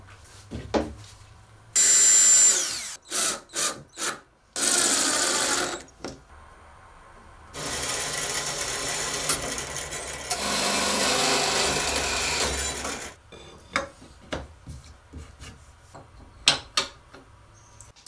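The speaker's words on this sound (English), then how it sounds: "use a pattern bit in the router to route a perfectly sized dado for that T-track" A router with a pattern bit cuts dados for T-track in wood. It sounds as loud, close, high-pitched whining bursts, short ones early and then two long sustained cuts, separated by quieter clunks and handling noises.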